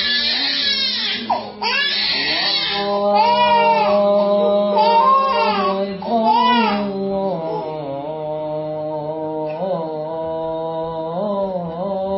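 A toddler cries loudly and close, in sobbing wails that rise and break, settling into a steadier whimpering cry toward the end, alone with no other sounds.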